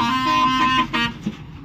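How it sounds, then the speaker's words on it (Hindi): A truck horn blares loudly and close, a sustained harmonic tone that cuts off after under a second, followed by a short second toot. "भाई हॉर्न का तो काफी ज्यादा शौक है बंदे को"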